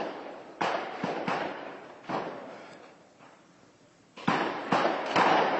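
Ammunition depot in Afrin going off in repeated heavy blasts: several loud booming bursts with rumbling tails, separated by quieter gaps, then a tight cluster of strong explosions near the end.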